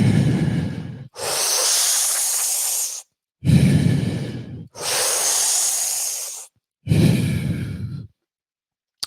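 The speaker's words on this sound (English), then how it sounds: "So balloon breathing looks like this if I were to do it in a continuous flow." Slow, continuous meditative breathing, balloon-style, with long airy inhales and exhales flowing one into the next, four close breath phases separated by brief pauses and no talking.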